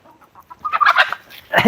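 Native country chickens kept in an areca plantation cluck close by, with a few soft clucks quickly building into louder, busier clucking over less than two seconds.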